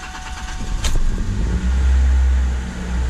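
A Ford Ranger truck's 2.3 Duratec engine starts after a crank position sensor repair, a brief crank followed by the engine catching and settling into a low, steady idle, close and loud.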